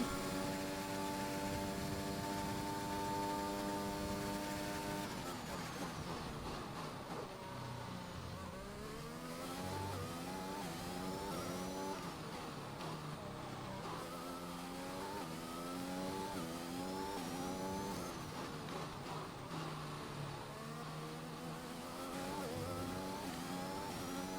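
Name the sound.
F1 race car engines from the video game F1 2021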